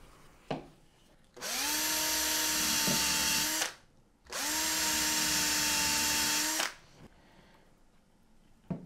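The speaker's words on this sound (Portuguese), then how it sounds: "eu vou trocar a broca, porque o furo daquele é um furo menor" An electric drill bores a hole in a handmade wooden jewelry box, running in two steady whining bursts of a few seconds each with a brief stop between, loud and close with faint clicks before and after.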